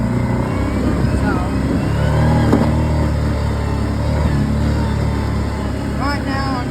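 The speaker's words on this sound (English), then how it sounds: "right now I'm just riding through our trails." An off-road vehicle rides along dirt trails, its engine droning steadily and close throughout while a person talks over the running motor.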